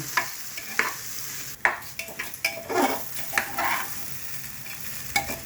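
Rice being stir-fried in oil in a pot, a soft crackling sizzle punctuated by repeated scraping stirs of a spoon against the metal, close and moderately loud, with no talking.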